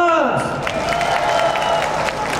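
Audience applause for the Saigon Stars band at a community event in San Jose, a steady wash of clapping and crowd noise running throughout, loud and continuous, with an announcer's voice mixed in.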